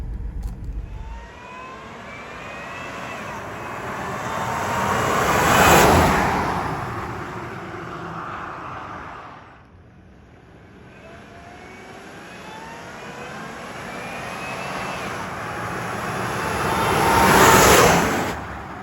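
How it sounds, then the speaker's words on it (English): Two drive-bys of a vehicle fitted with a 3.4L TRD supercharger and an added seventh injector, each a rising engine and supercharger whine that swells as it passes close and fades away. "You want to hop out and get me doing a drive-by here?"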